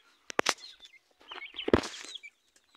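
A chicken, a white hen, gives a few short clucks and a scuffle of movement close by, sparse and quiet with gaps of silence between.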